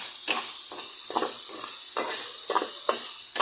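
Salted meat frying in oil gives a loud hissing sizzle with regular swishing strokes of stirring about every half second, close and with no talk.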